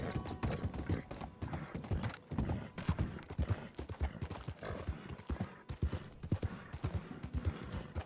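Horse hooves pounding a steady galloping rhythm in the video game Red Dead Redemption 2, loud and close, with bursts of game noise and a brief voice over the hoofbeats.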